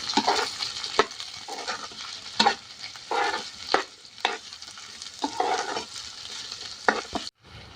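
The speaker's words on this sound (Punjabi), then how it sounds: "ਕੱਟੀਆਂ ਹੋਈਆਂ ਗਾਜਰਾਂ 2 ਮਿੰਟ ਇਹਨਾਂ ਨੂੰ ਵੀ ਭੁੰਨ ਲਾਂਗੇ" Chopped carrots stir-frying with leftover rice in a hot pan, a steady sizzle broken by repeated sharp scrapes and clanks of a spatula stirring, close and loud with no talking.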